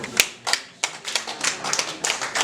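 Wedding guests in Kigali clap their hands, starting with scattered claps and settling into a quick, uneven run of close, sharp claps.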